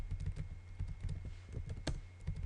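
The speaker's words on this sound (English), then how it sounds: "this keyboard is way different than what I'm used to" Fingers type rapidly on a computer keyboard while Ubuntu terminal commands are entered, giving quick, uneven clusters of soft key clicks and an occasional louder tap over a faint steady hum, with no talking.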